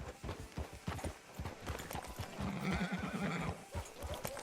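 A horse in Red Dead Redemption 2 clip-clops along in a quick, uneven hoof rhythm, then lets out a loud whinny partway through, close and clear, with a faint voice underneath.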